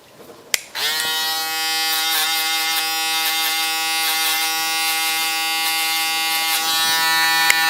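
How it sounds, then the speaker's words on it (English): An electric foil shaver buzzes steadily and loudly, close by, finishing a mullet haircut after a trimmer; a click starts it, and the motor hum holds for about seven seconds with no talk. "We finish it with the foiler."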